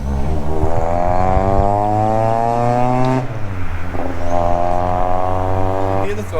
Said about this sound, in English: Hear the throttles from here.